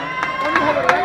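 A crowd shouts and claps in a short burst, loud sustained voices with a few sharp claps breaking through near at hand.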